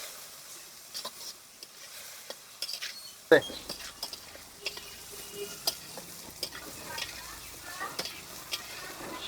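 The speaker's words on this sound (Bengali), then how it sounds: "এখন ভালো করে কাঠকলটাকে ভেজে নিতে হবে" Ghatkol leaves frying with salt and turmeric in a pan, quiet at first, then a sudden sizzle followed by soft crackling and intermittent spatula scrapes and clinks, close by.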